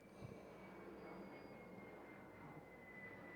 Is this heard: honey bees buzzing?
no